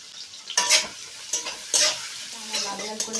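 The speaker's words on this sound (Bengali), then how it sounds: "পেঁয়াজটা দিয়ে লাল লাল করে ভেজে নেব পেঁয়াজটাকে" Chopped onions sizzle in hot oil while a spatula stirs and scrapes the pan in several close strokes. A steady frying hiss sits underneath, and no one speaks.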